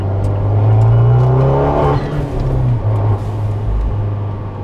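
A Fiat 124 Spider with a stage 2 tune cruising at easy throttle, a loud steady low engine drone heard from inside the cabin, easing off partway through with road and wind noise continuing.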